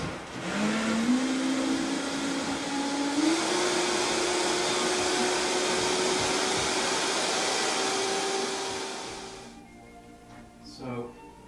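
Industrial mixer running on low speed whipping chocolate mousse, a loud steady motor whine that rises slightly in pitch as it spins up, holding for about eight seconds before winding down, followed by faint clatter.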